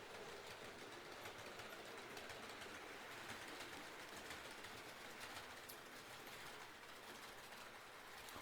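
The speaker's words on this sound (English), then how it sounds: "Good train noises." A model railway train runs steadily along its track, a continuous broadband rumble and rattle with fine clicking texture, close and even in level throughout with no talking.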